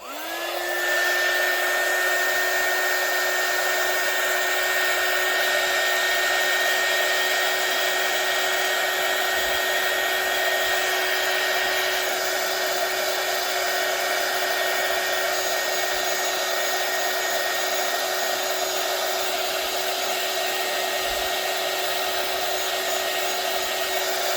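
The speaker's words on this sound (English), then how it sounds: "I need my heat gun just to make sure there's no bubbles in there" A heat gun blows steadily on a UV resin autumn bookmark, a loud continuous whine and rushing airflow that starts abruptly and holds without a break throughout.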